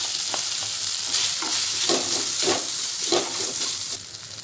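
Potato pieces dropped into hot peanut oil with red chilli powder and cumin, frying with a steady close sizzle and crackle, with a few soft stirring scrapes.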